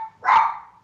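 A dog gives a single short bark at close range, one brief burst standing out from a quiet room.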